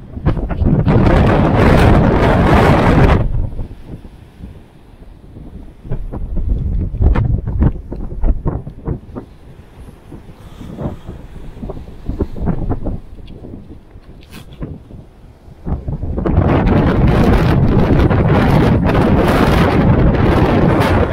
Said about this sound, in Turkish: Rüzgar beni atacak bu ne be?